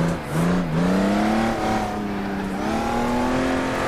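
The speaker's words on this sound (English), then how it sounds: "You can also hear that when I use more full throttle the engine is louder." Honda NSX engine under full throttle on a kart circuit, a loud, steady roar with rising and falling revs through the whole stretch, close by and alone.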